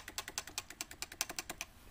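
Keys pressed on a Cooler Master Novatouch TKL keyboard with Topre switches: a rapid, quiet run of soft thocky clicks at close range, around twenty keystrokes in under two seconds, with no voice.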